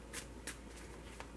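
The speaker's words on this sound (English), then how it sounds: "I have pre-shuffled these three decks for you, but I'm going to shuffle a little bit more." Tarot card decks being shuffled close by, with a few quick bursts of riffling cards separated by short pauses, quiet and alone with no talk.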